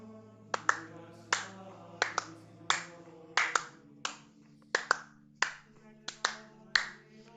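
A single person claps, or snaps, in a slow irregular rhythm of about a dozen crisp, close strikes over a faint steady tone, with no talk.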